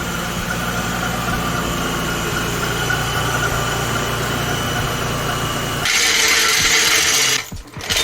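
An Infiniti V36 engine runs at a steady idle inside a garage, a close mechanical hum with a faint rattle, before a louder, brighter hiss cuts in near the end and briefly drops out.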